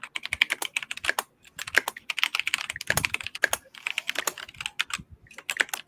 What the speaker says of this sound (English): I don't know why, but that typing is so loud.